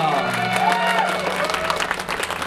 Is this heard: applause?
yes